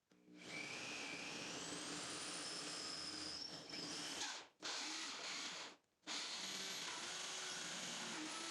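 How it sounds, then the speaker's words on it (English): Power drill boring through a solid core bathroom door, a loud, steady whining drone that runs several seconds, cuts out briefly twice, then resumes at full strength. "I'm going to be careful when you're trying to drill through something"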